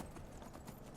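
Hooves of the black horse Shadowmere in the fantasy game Skyrim, a quick, soft clip-clop trotting rhythm, faint and close against steady game ambience.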